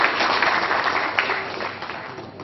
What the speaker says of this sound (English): Please give them a loud applause.